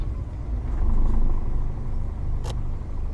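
A truck engine starts up in Euro Truck Simulator 2 with realistic physics enabled, a low steady rumble that swells and then settles into a continuous idle.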